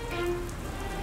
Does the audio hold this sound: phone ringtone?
no